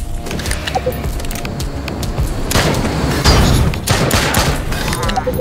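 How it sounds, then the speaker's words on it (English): Sustained video game gunfire aimed at incoming rockets, a dense rattling barrage that swells louder midway with heavy booming impacts, while a voice talks over the noise. "Shoot down their rockets."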